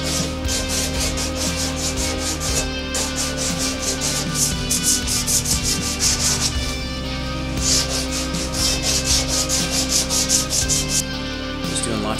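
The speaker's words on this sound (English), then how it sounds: "Just doing lots of sanding here just to get" Sandpaper worked by hand over the nose rail of a damaged surfboard, shaping the repair with steady, rhythmic back-and-forth rubbing strokes, close and continuous with brief pauses, no talking.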